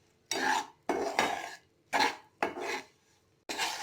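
Butter and brown sugar caramel stirred in a pan over a medium flame, the utensil scraping the pan in five close rasping strokes with short pauses between them.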